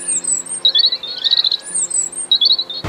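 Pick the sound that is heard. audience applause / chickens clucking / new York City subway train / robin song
robin song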